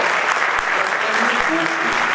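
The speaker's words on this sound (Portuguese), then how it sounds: "eu peço uma salva de palmas para ele" Audience clapping for Carlos Cardoso at a public tax officials' event, a dense continuous round of applause with faint voices mixed in beneath it.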